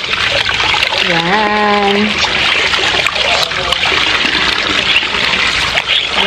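Water is poured over a newly arrived plant's roots and leaves during fungicide soaking, a running trickle and splashing that continues under a person speaking close by.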